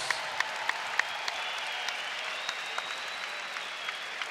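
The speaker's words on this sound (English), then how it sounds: "may we please have a round of applause for these two" Applause for two boxers after a fight rises as a faint, even wash of clapping, with a few sharp individual claps and taps standing out near the start.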